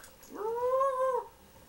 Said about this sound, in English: Ooh, baby dog.